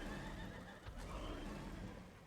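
A horse neighs in the fantasy game ESO Dragonhold, a whinny rising over a steady bed of ambient game sound and faint hoof movement, close and fairly loud for about two seconds.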